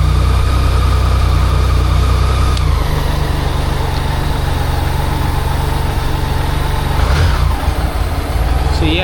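A BMW K75RT motorcycle engine idles steadily after sitting for nine years, now with cleaned injectors and no choke, a loud, even low rumble running throughout with a slight dip in tone partway through.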